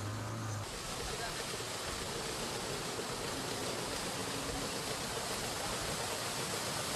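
A large river, the longest in Mauritius, flows between sugar cane fields, giving a steady broadband rush of moving water that holds constant and fairly loud throughout, with no talk over it.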